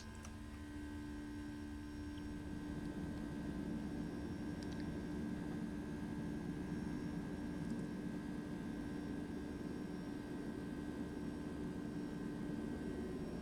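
Jet engines of a Boeing 757-200 in the X-Plane 12 flight simulator just after takeoff, a steady, even roar with a constant hum that fills the whole stretch with no voices.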